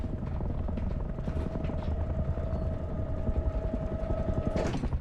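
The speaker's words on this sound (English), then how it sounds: "Where is this heli to?" A helicopter in the survival video game Rust gives a steady, continuous rotor drone with a sustained hum throughout, heard alone without talk.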